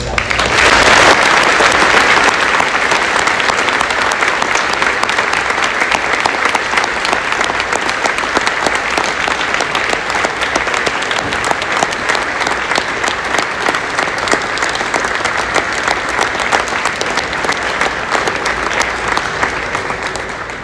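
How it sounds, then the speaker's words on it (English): An audience claps warmly and steadily for about twenty seconds, honoring United States military veterans at a Veterans Day ceremony at St. Francis Borgia High School. The dense, full-room applause stays loud throughout. "please stand and join me in giving our United States military veterans one final round of applause"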